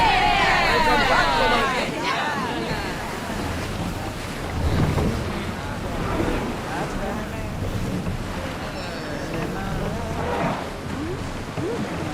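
Sailing ship at sea in the Assassin's Creed Odyssey video game, with steady wind and surging waves against the hull throughout, music-like tones and voices present under the noise.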